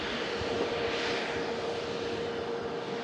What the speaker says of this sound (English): That aircraft's made its right-hand turn.